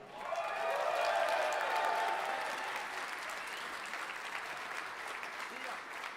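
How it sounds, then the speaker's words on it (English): An audience at the Swedish Game Awards at Berns in Stockholm applauds for the band and orchestra, a dense, even clapping that swells loud in the first seconds and then eases into a steady, slightly softer ovation. "please, big applause for our band and our orchestra"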